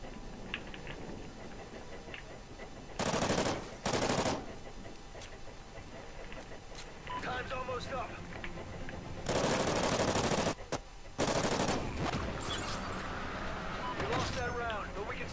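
Automatic gunfire in the video game Call of Duty: Ghosts: several dense, loud bursts of rapid fire, two short ones early and two longer ones later, separated by quieter game ambience with a voice now and then.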